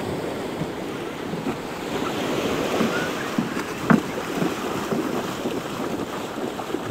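Sea waves roll in at the shore beside a fishing boat after a big storm, a continuous rushing surf mixed with gusty wind noise on the microphone. A few small knocks rise briefly above it.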